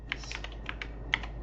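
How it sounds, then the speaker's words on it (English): Quick burst of computer keyboard typing, a handful of light, close key clicks in an irregular rhythm with no talking. "So now we're going to type in sfc"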